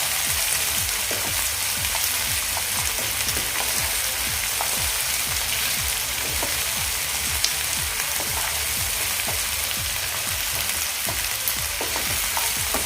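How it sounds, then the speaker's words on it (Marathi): Tomatoes sizzle and fry in a pan while being sautéed for a dried shrimp dish, a continuous hiss broken by frequent crackles and stirring scrapes, close and steady with no talking. "टोमॅटो आपल्याला मऊ होईपर्यंत असेच परतायचे आहे"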